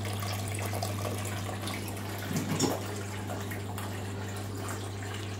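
Water keeps running for a few seconds from an antique automatic soap dispenser machine, a steady trickle over a low mains hum, with a brief splashy burst midway.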